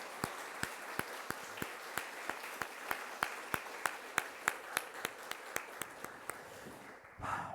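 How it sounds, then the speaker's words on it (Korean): A church congregation at a Sunday service claps in a slow, steady unison rhythm, roughly two beats per second, fairly soft and reverberant, ending with a short burst of louder shuffling noise. "박수로 우리 마음을 표현해 드리면 좋겠습니다."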